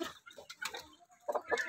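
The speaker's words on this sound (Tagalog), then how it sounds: "Ito naman po ang aking barako na Rhode Island Mahogany." A Rhode Island Mahogany rooster gives a few short, soft clucks close by, choppy bursts separated by brief gaps.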